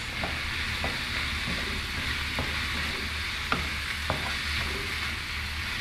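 Pine nuts stir-fried in a village kitchen pan until browned, a continuous close sizzle broken by several sharp scrapes and taps of the stirring utensil against the pan.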